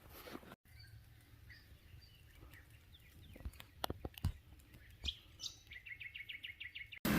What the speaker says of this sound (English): this tiny little bird makes the coolest noises